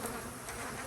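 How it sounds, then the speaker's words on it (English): Agitated honey bees buzz at a hot outdoor hive, a dense, steady droning swarm close by for just under a second. "Man, these bees are not happy."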